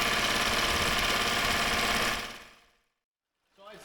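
A boat motor idling while warming up, a steady loud mechanical chatter that fades out to near silence around halfway, followed by a brief rise of faint noise at the end.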